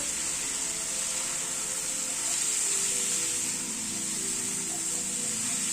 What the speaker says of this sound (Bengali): নুন হলুদ দিয়ে ঝিঙেটাকে আবার একটু নাড়াচাড়া করে নিচ্ছি।